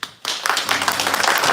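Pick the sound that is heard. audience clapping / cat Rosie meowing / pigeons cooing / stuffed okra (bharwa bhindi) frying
audience clapping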